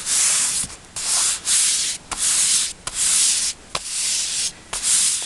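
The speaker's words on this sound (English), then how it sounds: "I am going to use my scraper just to make sure it is nice and flat." A scraper is rubbed back and forth over paper to flatten it, giving about eight close, dry, rhythmic swishing strokes separated by brief pauses.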